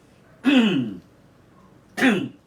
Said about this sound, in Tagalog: Pasensya niyo po ako at katatapos ko lang di halos umubo.